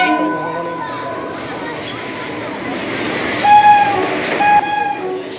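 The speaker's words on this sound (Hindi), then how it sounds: "फाइनली ट्रेन आसी गला" A train pulls into Barpali railway station in Odisha with a rumbling approach and a couple of bright horn blasts toward the end, heard close over crowd noise and nearby voices.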